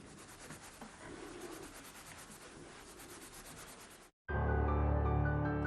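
A newly forged Japanese sword blade being polished with soft material to whiten the hamon: steady, close rubbing and scraping strokes that run on evenly, followed by a sudden cut to a louder, tonal passage.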